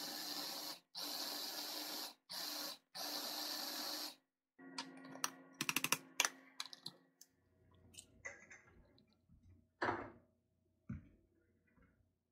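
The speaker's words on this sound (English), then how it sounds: "placing some old-fashioned rolled oats in our food processor and grinding it up" A food processor grinds old-fashioned rolled oats in four loud, harsh pulses, then quieter clicks, taps and clatter follow as the machine stops and is handled, with no speech.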